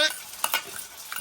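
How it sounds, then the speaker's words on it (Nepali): A spoon stirs panipuri masala water in a bowl, giving a brief burst of close, wet swishing and light clinks. "मिक्स गरेर त्यसलाई हलाउनु पर्छ।"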